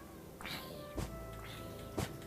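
A Minecraft cat gives two short meows about a second apart, each with a soft thump, close and clear over a quiet game background.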